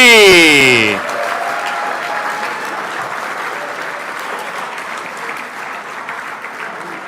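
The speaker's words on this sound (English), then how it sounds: "Make sure that applause is loud and proud" Steady, loud applause fills an awards ceremony for RC racing, a dense sustained clatter of many hands following a brief amplified voice at the start.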